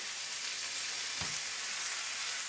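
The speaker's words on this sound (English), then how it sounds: "we're going to grill these until they're sort of golden brown on both sides" Pork slices for ginger pork sizzle in a pan as they brown, a steady bright hiss with a brief soft clatter midway, close and continuous with no talking.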